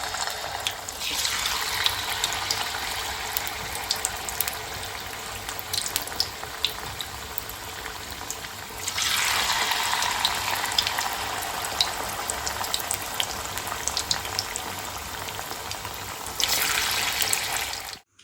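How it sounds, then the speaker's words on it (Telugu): Paneer pieces coated in batter deep-fry in hot oil with a continuous bubbling sizzle. The frying swells louder in two bursts near the start and middle, then briefly again at the end, with no talking. "సో ఇలా లైట్ బ్రౌనిష్ అయ్యేంత వరకు ఫ్రై చేసుకోవాలి ఫ్రెండ్స్"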